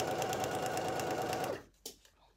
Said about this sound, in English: you're just going to stitch along the dark line